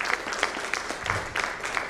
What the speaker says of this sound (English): Can we have a huge round of applause for all the panel members?